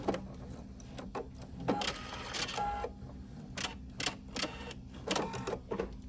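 A sewing machine runs a straight line of stitching in short, clattering bursts of needle strokes. Faint handling noises fill the gaps between bursts.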